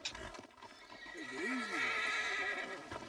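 A horse neighs in the Red Dead Redemption 2 video game, a loud rising and falling whinny near at hand, following a brief stretch of voices and hoof clops.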